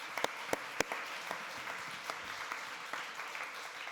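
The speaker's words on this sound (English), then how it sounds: "let's applaud this beautiful panel" An audience applauds after a fashion industry panel session, with a few sharp, loud claps up front and then scattered, thinner clapping that continues steadily across the room.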